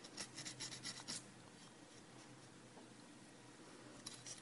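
A chipped ceramic edge is sanded by hand, giving soft rasping strokes in a steady run at first, then fading to a faint hiss with a few later scrapes, all quiet and close.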